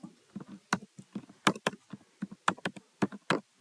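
Someone types a test case on a computer keyboard, a quick irregular run of close, crisp key clicks and taps with short pauses between bursts.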